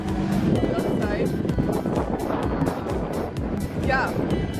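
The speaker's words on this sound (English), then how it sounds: "Okay, guys, so we are on the boat." Boat crossing open water, a steady motor rumble with wind buffeting the microphone, while people chat and greet each other over the noise.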